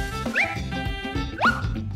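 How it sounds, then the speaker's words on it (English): A cartoon dog gives two short, bright barks about a second apart, each with a rising yelp-like pitch, loud and close with nothing else over them. "It's a dog."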